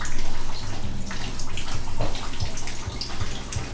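Water leaking from a ceiling after storms pours and splashes steadily close by, a loud continuous running rush with faint irregular drips and thumps.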